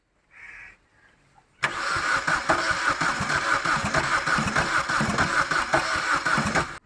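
A used second-hand car's engine is cranked but fails to catch. After a short, faint electronic tone and a pause, a loud, steady, rhythmic starter churn runs without break for about five seconds.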